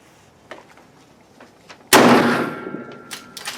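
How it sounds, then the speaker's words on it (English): A single loud rifle shot from a .444 Marlin firing Hornady 265-grain ammunition cracks sharply and booms away in a long decaying echo, with faint clicks and handling noises before it. "now we're going to be shooting the Hornady 265 grainers"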